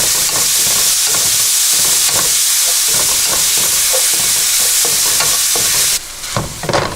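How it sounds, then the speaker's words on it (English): Beef for Vietnamese shaken beef (bo luc lac) stir-fries in a very hot pan with a loud, dense, hissing sizzle and rhythmic stirring scrapes. The sizzle suddenly drops quieter near the end. "you want to stir it for about 30 seconds to a minute on really high heat so that everything can be well cooked"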